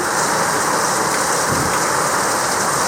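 Heavy rain pours steadily outside, a dense, even hiss of drops on surfaces with no break.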